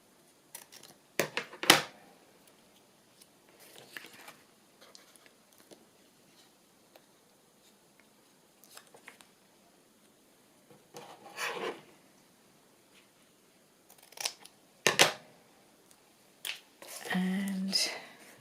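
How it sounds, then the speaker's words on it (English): Scissors cut a paper craft tag at close range: short bursts of snipping and rustling, spaced out by quiet pauses, with a longer scraping passage near the end. "I'm going to cut that now."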